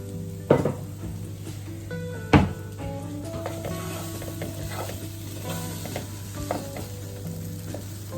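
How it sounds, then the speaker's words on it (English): Utensil scraping and stirring in a pan while cooking crustless quiche filling with tomatoes, two sharp scrapes early on over a steady sizzle and soft clinks, with no talking. "scrape every last bit of flavour out of this pan"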